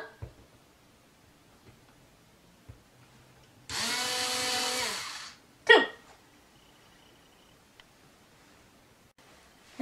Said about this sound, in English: I'm going to use this little electric screwdriver just to put a small hole